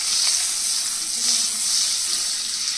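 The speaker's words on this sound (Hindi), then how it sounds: "अब हमने पैन में ऑयल डाला है, थोड़ा सा बटर डालेंगे" Oil with a little butter sizzling in a pan while cooking a restaurant-style mixed vegetable jalfrezi after onions; a steady, close hiss of frying runs alone throughout.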